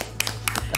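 Applause from an audience at the close of a televised evening show, heard as a few short broadband bursts of clapping over a steady low hum, fairly close and brief.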